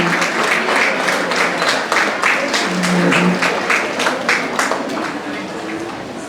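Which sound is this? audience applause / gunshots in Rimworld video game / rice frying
audience applause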